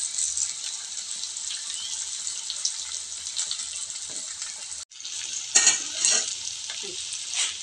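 Chopped onions and curry leaves sizzle steadily in hot oil with tempered mustard seeds while making bottle gourd kootu, a constant close frying hiss with occasional stirring scrapes and a brief pause midway.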